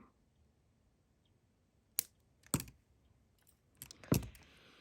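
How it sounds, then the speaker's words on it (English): Wire cutters snip beading wire in a few sharp, close clicks, three or four distinct cuts spaced out over otherwise quiet handling. "press it against this wire and then snip it off right here"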